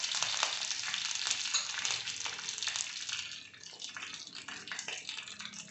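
Neem leaves hit hot oil in a pan while mutton pickle is made, giving a steady, close, bright sizzle and crackle for the whole stretch with no talk.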